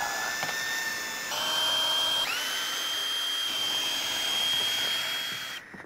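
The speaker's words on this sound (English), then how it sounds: "what we gotta do now is friggin' well drill them on" Power drill screwing plywood sheets down onto a roof, a loud steady whine that holds and shifts pitch over several seconds, tone stepping up midway and cutting off at the end.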